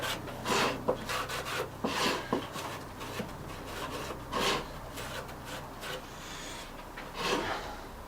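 A rag rubs excess glue off a small wooden box in short scrubbing strokes, close and fairly quiet, with irregular bursts of friction.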